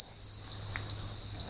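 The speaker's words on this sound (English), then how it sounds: "This one actually beeps when it has continuity." Multimeter continuity tester beeping while checking wiring for dual-tone horns in a classic Mini: a loud, steady high-pitched tone, cut briefly, then resuming and stopping again.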